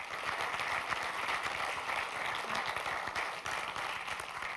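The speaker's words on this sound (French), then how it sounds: "merci de les applaudir" Audience applause fills the room at the closing of a Bordeaux FinTech conference, a steady, dense wash of clapping sustained throughout without a break.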